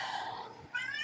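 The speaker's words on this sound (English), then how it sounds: "You might hear a kitty cat in the background meowing" A cat meows in the background indoors, two short drawn-out cries in quick succession, fairly faint and without talk.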